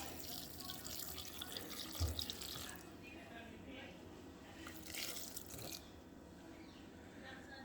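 Liquid is poured for a vegan seamoss shake, giving a faint, steady splashing stream with a couple of brief bursts. The pour is quiet and close.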